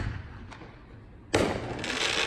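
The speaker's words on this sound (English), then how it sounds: "I know you can hear it's fireworks." Fourth of July fireworks outdoors at night: distant rumbling and pops, then a sudden loud burst of crackling explosions that keeps sizzling until the end.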